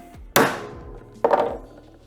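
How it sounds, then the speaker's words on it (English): Two sharp hammer blows land on a manual impact driver to break loose stuck screws during a Subaru STI engine rebuild, each a loud close metallic strike followed by a short ringing decay. "what this tool does is when you hit it, it compresses and actually turns"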